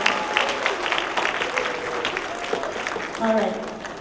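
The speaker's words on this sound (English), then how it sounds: "one big round of applause for this amazing effort" An audience at a Hindu Heritage Month launch event breaks into a round of applause, a dense, steady clatter of clapping that holds for several seconds and swells slightly near the end.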